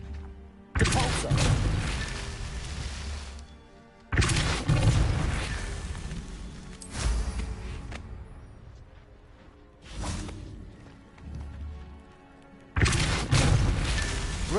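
Depulso force spell cast repeatedly in Hogwarts Legacy on PS5: several loud booming whooshes with heavy low thumps, each starting abruptly and fading over a few seconds, with brief gaps between casts.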